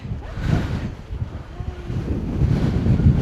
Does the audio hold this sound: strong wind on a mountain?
yes